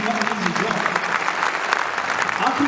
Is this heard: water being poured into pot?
no